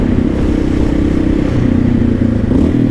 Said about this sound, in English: even with the sound of the KLR, which is quite loud and quite commanding